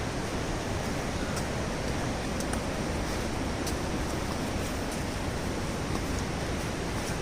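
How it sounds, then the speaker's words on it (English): Dudhsagar waterfall in Goa heard on a hillside trek, a dense, steady roar of falling water that fills the whole clip with no break and no voices. "You can listen to this waterfall sound."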